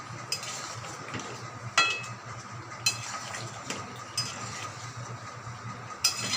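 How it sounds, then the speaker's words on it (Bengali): A spoon stirs aloo dum with garam masala in a pan, scraping softly against the metal with occasional sharp clinks spaced a second or so apart over a low, steady background. "নাড়িয়ে দেবো।"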